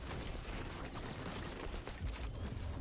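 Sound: gunfire in a Call of Duty-like video game

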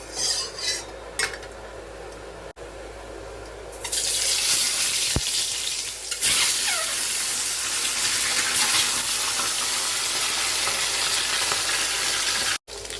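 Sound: duck egg frying in hot oil in a wok

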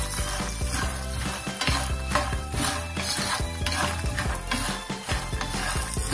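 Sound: stirring makhana peanut namkeen in a hot pan

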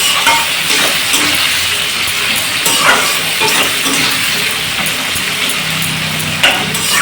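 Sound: chicken frying with spices in a kadai

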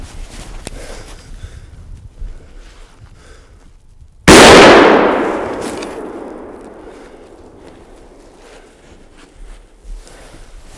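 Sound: hunting rifle gunshot

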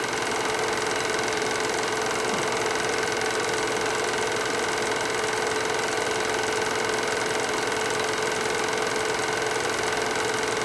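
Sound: snowmobile engine running

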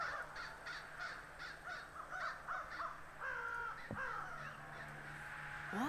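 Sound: crows cawing in the video game The Night of the Rabbit

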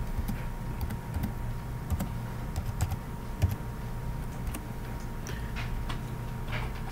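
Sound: typing a password on a computer keyboard

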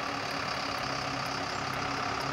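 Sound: truck engine pulling a stuck vehicle out of mud

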